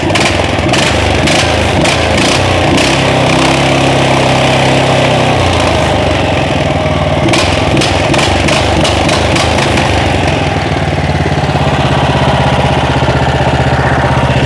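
A small Loncin or Weima petrol engine runs steadily and loudly close by, a throaty mid-low drone with a few brief revs partway through and no talking.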